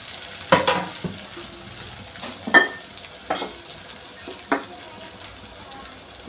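Tomatoes and curry leaves go into onions frying in oil for a fishless fish-style curry, giving a soft sizzle broken by a few sharp stirring clatters at irregular intervals.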